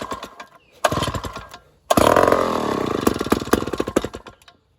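An old chainsaw engine, roughly 20 years older than another saw and set on full choke, sputters briefly, then catches and revs loudly and raggedly up close, its pulsing two-stroke rattle running steadily before cutting off.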